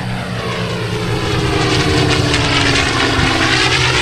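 A P-51 Mustang propeller fighter flying aerobatics at the NAS Key West airshow, its loud, continuous engine roar filling the air up close.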